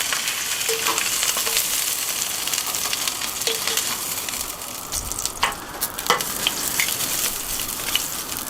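Oxtail pieces sear in oil in a Dutch oven with a dense, continuous sizzle and crackle, punctuated by occasional pops and a few light clinks of a utensil.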